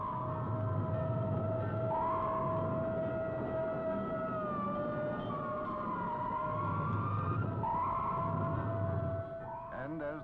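A speeding FDNY fire engine's siren wails loudly through city streets in long rising and falling cycles, with an air-horn-like tone on top and heavy engine rumble beneath.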